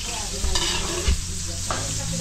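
Garlic and onion frying in oil in a catering kitchen pan, a loud, steady sizzle with a couple of sharp clanks over a constant low hum.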